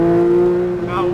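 A race car engine pulls hard on a track, a loud, steady tonal drone with a slight dip in pitch near the end, heard briefly from close up.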